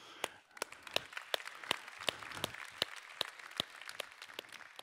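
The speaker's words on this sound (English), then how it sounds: "One applause for you." A conference audience at an eCommerce summit gives a round of applause, scattered claps building into a steady, moderately loud ovation that lasts several seconds.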